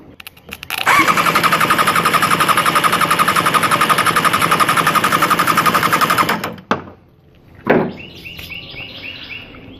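A Suzuki GS550 motorcycle engine cranks over on an old battery in a fast, loud, rhythmic chugging that runs steadily for several seconds, stops abruptly, then gives a short second spin before a clatter.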